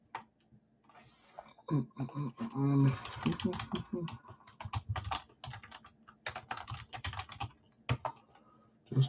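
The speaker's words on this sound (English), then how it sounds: "Just typing it." Bursts of quick clicking keystrokes on a computer keyboard during a live sports card break, close and irregular, with someone talking over and between the typing.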